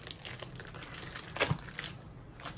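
A 3.28-pound rack of ribs being pulled from its cryovac plastic wrap for crockpot cooking, giving a short, close crinkling burst of plastic over a low, steady background.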